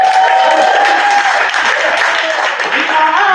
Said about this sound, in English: You can't start with these soft weak claps when we have 5 people left.